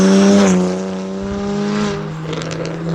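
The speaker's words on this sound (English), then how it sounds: "I would not daily a car that was this loud. This is insanely loud." Tuned 450 hp BMW 135i with an N54 turbo engine accelerating hard on back roads, a loud, close, rising engine drone with strong harmonics that then eases off as the revs drop.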